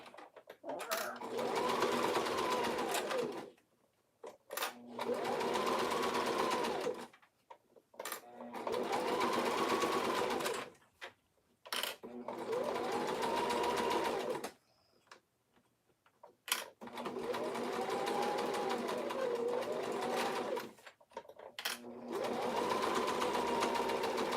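A sewing machine stitches headbands in repeated runs of steady whirring lasting a few seconds each, separated by short pauses. The whir is fairly loud and close, with no talk over it.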